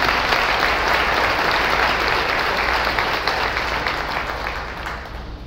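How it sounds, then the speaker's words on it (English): Steady, dense applause from a large crowd at a mental health talk, sustained and fairly close for several seconds before gradually fading. "Give yourselves a round of applause first."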